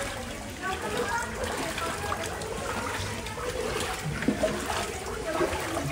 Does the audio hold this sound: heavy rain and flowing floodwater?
yes